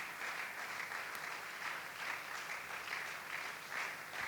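A church congregation at an evening prayer service applauds together, a dense, sustained wash of clapping that continues evenly throughout, heard from within the crowd.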